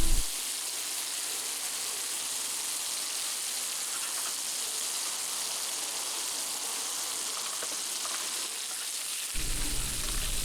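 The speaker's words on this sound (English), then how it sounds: "in we go then with a good knob of butter and then we're going to start basting" Butter sizzles and hisses in a hot cast iron pan while pork chops are basted, a loud, even frying crackle that holds steady, with a small clunk shifting the tone near the end.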